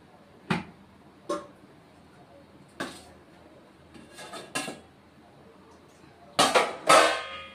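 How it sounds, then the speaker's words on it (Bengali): A wok is set on the stove and oil added: metal clanks and knocks in scattered, separate hits, ending with a louder scraping clatter up close; no one speaks. "কড়াই বসিয়ে দিলাম, এখন কড়াইতে অল্প তেল দিয়ে দিচ্ছি"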